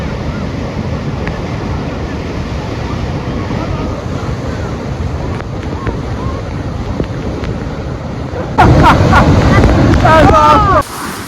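Continuous roar of water and wind at Niagara Falls, a broad rushing wash with mist in the air and gusts buffeting the microphone, growing louder and harsher toward the end, with a voice faintly audible under it.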